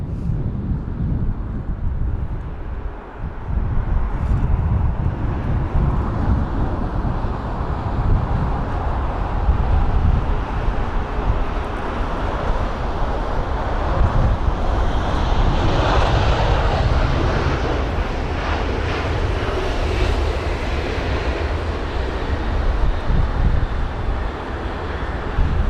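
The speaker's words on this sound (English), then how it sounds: "The Lufthansa jet from Munich," A Lufthansa jet from Munich lands at London Heathrow in windy conditions; a loud, sustained roar of engines and rushing air fills the whole stretch, swelling gently and then holding steady.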